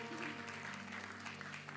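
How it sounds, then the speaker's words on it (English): A church congregation applauds newcomers at an evening service, steady dense clapping that is fairly faint and distant, with a sustained musical tone underneath. "Give them a round of applause."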